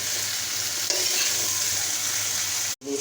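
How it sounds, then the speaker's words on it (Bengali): Onions, garlic and green chillies for a curry are stirred and sautéed in a pan, giving a steady, loud sizzle with scraping stirs and a brief cut near the end; no talking. "দেখেন একটু লাড়া চেড়ে দিতেছি, কষাইব"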